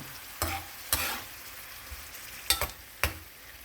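Cheesy mussels (tahong) are stirred in a pan, with four distinct scraping strokes of the spoon over a soft, low sizzle; the strokes are loud and close, with quiet pauses between them.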